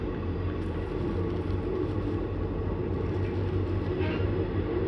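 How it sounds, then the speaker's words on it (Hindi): A passenger train on its way from Shri Ganganagar to Ambala pulls onto the loop line at Lehra Mohabbat station, heard from on board as a steady, loud rolling rumble of wheels on track with no break. "और ये दोस्तों गई अपनी ट्रेन लहरा मोहब्बत की लूप लाइन पर।"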